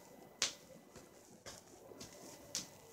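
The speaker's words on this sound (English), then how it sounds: "I'm clapping with my feet" Feet clapped together in a quiet room: three faint, crisp slaps spaced about a second apart, each a sharp isolated snap over a low background hiss.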